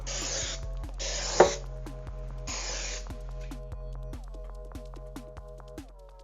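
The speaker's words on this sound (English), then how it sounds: "we're going to take a 13×9 pan and go ahead and spray it" Cooking spray hisses into a 13x9 baking pan in three short bursts, separated by quiet gaps, with a steady electrical hum and faint kitchen clicks underneath.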